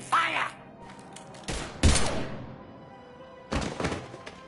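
Gunfire from the video game Mass Effect 3: a few sharp, loud bursts of shots and impacts in separate clusters, with game sound and low voices mixed in between.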